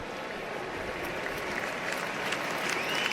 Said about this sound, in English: it's a round of applause here at Husky Stadium for Braden Vines-Bright